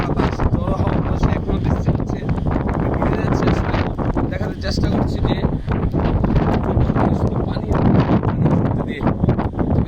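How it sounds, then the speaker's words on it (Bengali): Strong Cyclone Remal winds sweep across rural crop fields in Bangladesh, with loud, continuous gusts buffeting the microphone and someone talking over the roaring air. "দেখুন প্রচুর পরিমাণে বাতাস বাংলাদেশে প্রচুর পরিমাণে"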